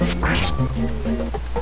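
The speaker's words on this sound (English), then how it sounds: "Oh, freaking ducks." Ducks quack in the video game Earthbound, a series of loud, buzzy synthetic quacks in a quick uneven rhythm, close and alone.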